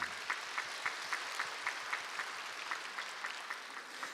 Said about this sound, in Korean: 동산의 가족이 되신 분들께 마음을 담아 박수로 환영하겠습니다